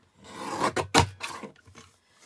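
A paper cutter slices through cardstock in a short rasping scrape with a couple of quick strokes, close and fairly quiet, alone in a quiet room.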